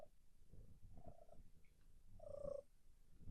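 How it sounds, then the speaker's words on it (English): A very faint, low rumbling purr close by, with a soft meow-like squeak near the end, quiet and intimate. "She's purring."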